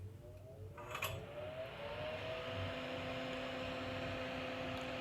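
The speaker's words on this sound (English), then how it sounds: "Turn on the solder fume sucker." A solder fume extractor fan, used while assembling an amplifier circuit board, hums steadily at close range with a broadband whoosh and a faint tonal whine that settles into a constant drone.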